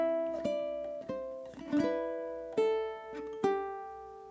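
Played quietly and up close, a ukulele fingerpicks the closing two measures of a melody, a handful of plucked notes that slow down toward the end, each one left to ring.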